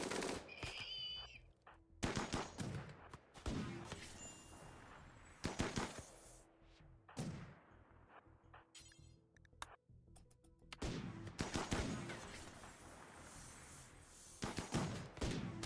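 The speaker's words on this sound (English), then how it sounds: "Are they shooting over our walls or something?" Long-range gunfire from the RimWorld game crackles in repeated bursts of sharp shots separated by short pauses. Some volleys are rapid like machine-gun fire, and the level is fairly quiet overall. No talking.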